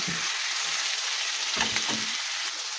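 Pork meat frying in a pan for homemade menudo, a steady loud sizzle with brief bursts of stirring, no talk.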